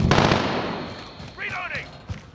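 Gunfire in a Call of Duty game, with a loud burst of shots opening the clip, then fading into scattered distant reports. A voice cuts in briefly over the battle noise.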